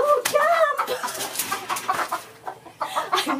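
A hen clucks and calls close by in a series of short, bright vocalizations, the first a longer warbling call, continuing throughout with no talking.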